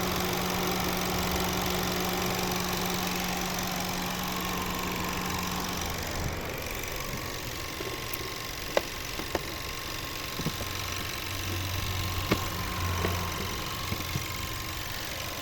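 A 2018 Buick Cascada 1.6 turbo petrol engine idles steadily with the hood open, a low, even rumble and faint mechanical ticking, heard close up and alone for the whole stretch.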